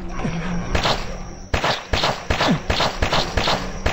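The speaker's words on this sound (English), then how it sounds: "Pistol." Pistol shots in the zombie video game Zombocalypse, a first quiet stretch followed by a steady run of sharp, loud reports spaced less than half a second apart over a constant game background.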